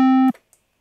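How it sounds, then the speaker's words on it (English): Square wave tone from a VCV Rack software synthesizer oscillator, a steady buzzy pitched drone held loud and alone, then cut off abruptly with faint clicks after. "I can drag that over to be a square wave"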